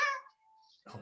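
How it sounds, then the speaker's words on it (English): A single cat-like meow, clear and close, rises and fades within a fraction of a second, followed by a brief gap and a burst of soft rustling noise. "It sounds like a cat."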